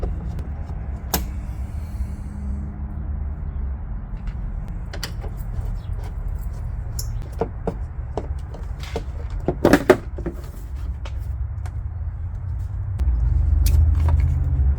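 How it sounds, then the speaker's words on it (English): Handling and tugging a Saab 9-4x taillight out of its opening, with scattered sharp clicks and plastic snaps as the tabs let go, a louder pop near the middle, over a steady low rumble close to the mic. "we'll have to pull the taillight towards the camera to get it out"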